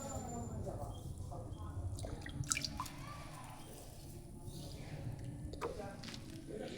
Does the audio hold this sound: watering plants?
yes